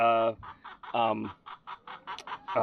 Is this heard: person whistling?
no